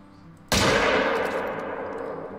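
A rifle fires one long-range shot at an elk in the hunting game theHunter: Call of the Wild: a single loud, sharp crack followed by a long, rolling echo that slowly fades.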